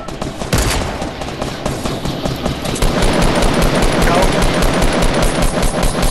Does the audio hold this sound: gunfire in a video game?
yes